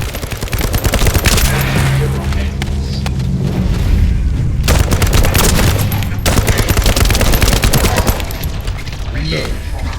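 Sustained rapid gunfire roars through a shooter game, The First Descendant, with dense automatic bursts and booming impacts filling nearly the whole stretch; an in-game voice speaks briefly over the shooting.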